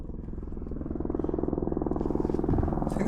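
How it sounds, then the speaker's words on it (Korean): A helicopter flies overhead on Mt Shasta, its rotor beating in a fast, steady, pulsing throb that grows louder as it passes, alone apart from faint rustling near the end. "이 지점 갑자기 하늘에서 헬기 소리가 들립니다"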